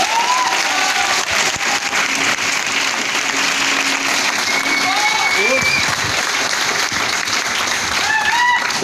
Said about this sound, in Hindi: एक बार ताली बजा दो यार, इस तरह का।